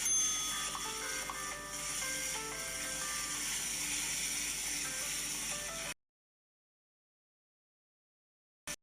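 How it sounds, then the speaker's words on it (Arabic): Game sounds from a Cooking Talent cooking game, a bright electronic tone pattern with a bell-like ring sustained for several seconds, then an abrupt cut to silence and a short blip at the end. "جرس."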